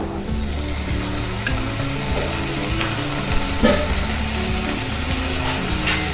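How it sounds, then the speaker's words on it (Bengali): Ginger-garlic paste sizzling loudly with fried onions in mustard oil, a dense continuous crackle with scraping stirs and occasional clinks of a spatula against the pan, close and without talk. "পেঁয়াজটা ভাজা হয়ে গেছে, এবার আদা রসুন বাটাটা দিয়ে দেব।"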